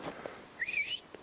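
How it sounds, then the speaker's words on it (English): Whistles in a forest: a few faint short tones, then a clear rising-and-level high whistle, all distant and quiet with no talk. "I've already gotten 5 or 6 whistles since I've been here."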